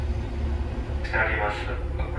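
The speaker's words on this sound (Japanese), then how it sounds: "遅れている伊勢奥津行きの列車が到着しました" A delayed JR Meisho Line train bound for Ise-Okitsu pulls into a small station in strong wind, a steady low rumble with a brighter rolling swell partway through, heard under a voice.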